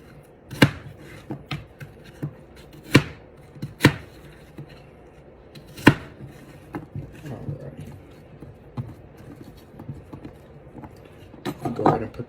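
A knife chops apples for apple crisp on a cutting board in a series of sharp, irregular cuts, several loud strikes spaced a second or two apart with softer cutting and handling noises in between, while a person talks quietly.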